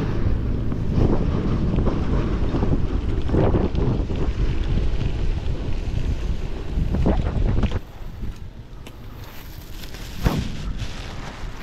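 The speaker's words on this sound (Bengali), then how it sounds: "বাতাসটা একেবারেই চালাইতে বেশ কষ্ট হচ্ছে" Strong wind buffets the microphone during a long-distance bicycle ride in stormy weather, a loud, continuous roaring rumble with gusty bursts and no talk.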